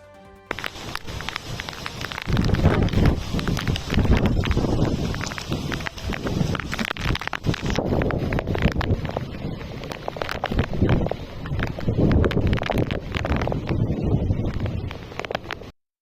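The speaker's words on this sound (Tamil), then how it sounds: "பலத்த காற்று வீசுவதால் குளச்சல், தேங்காய்பட்டினம் மீன்பிடி துறைமுகங்களிலிருந்து மீனவர்கள் கடலுக்கு மீன்பிடிக்க செல்லவில்லை" Strong wind buffets the microphone at a sea coast near fishing harbours, gusting loudly and steadily throughout with a rough, rushing roar and no voices.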